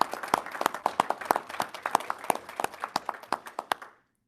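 Applause for school teachers and staff at a district board meeting, a modest patter of clapping from a small group that fades out near the end.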